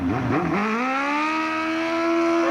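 A Suzuki GSX-R 1100 drag bike on the start line at Snetterton runs a smoky burnout, its engine screaming and rising to a sustained high-revving whine, loud and close throughout.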